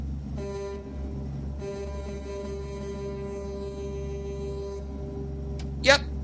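A semi-truck air horn sounds in American Truck Simulator, a long sustained multi-tone blast over a low engine rumble, briefly broken then resumed, ending with a short sharp squeal.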